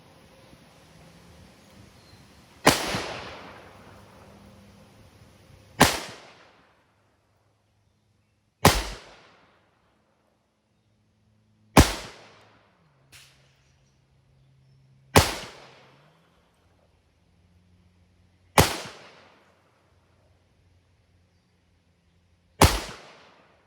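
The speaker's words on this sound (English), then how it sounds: "I decided when I moved back to 25 yards to fire another 7 shots from that distance" A S&W 686+ Mountain Gun revolver fires seven Fiocchi 158 grain jacketed hollow point rounds at an outdoor range, each loud sharp crack followed by a short decay, spaced about three seconds apart with quiet between.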